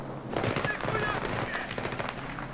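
Rapid bursts of automatic gunfire from a Battlefield 3 firefight, fairly quiet and clustered in a dense volley across about two seconds, with a faint voice underneath.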